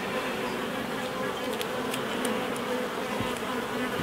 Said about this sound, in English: This is the one that's buzzing me. Look, see him? He must be a guard bee